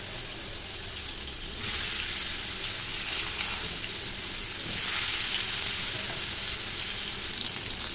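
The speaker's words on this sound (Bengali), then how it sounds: "আলু পটলটা বেশ ভালো করে আমি ভেজে নিয়েছি" Potatoes and pointed gourd frying in hot mustard oil in a pan, a steady hiss and sizzle that swells and fades a little across the clip, with no talking.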